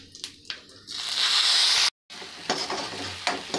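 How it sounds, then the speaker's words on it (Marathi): Cumin seeds, a pinch of asafoetida and a ground coconut paste fry and sizzle in hot oil in a kadhai, with a loud hiss swelling after a few stirring clatters, a brief cut, then continued sizzling with scraping spoon strokes. "तेल तापले की त्यात टाकायचं आहे जिरं, थोडासा हिंग आणि आपण वाटून घेतलेलं वाटण"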